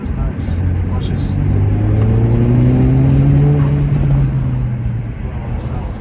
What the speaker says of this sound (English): Blowout valve when it discharges.